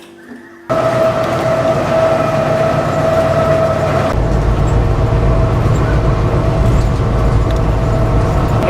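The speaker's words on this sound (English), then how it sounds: "The train is coming into Laurel" Freight train rolling along the tracks out of the mountains into the flats near Laurel in winter, a loud steady rumble with a constant mechanical drone that starts abruptly after a brief quiet moment and continues without pause.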